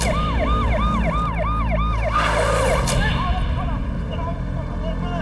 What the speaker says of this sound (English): a fake ambulance that they had created, and they drove him off